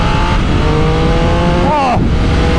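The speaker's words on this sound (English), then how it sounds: "it's another bike you really have to hold on to when you open the throttle." A Triumph Speed Triple 1200 RS motorcycle engine roars loud and close as the throttle opens, its steady drone rising in pitch near the end under constant rushing wind.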